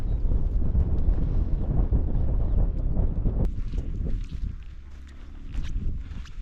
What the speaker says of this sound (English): Definitely is a bit windy up here.